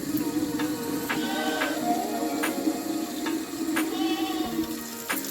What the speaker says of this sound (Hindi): तो चलिए जी अब पानी भर लेते हैं पीने के लिए।